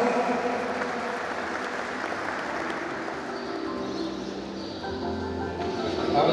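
An audience applauds a speaker at a 2019 electoral board training and swearing-in ceremony, with steady, dense clapping that holds throughout and swells slightly near the end, with no voices over it.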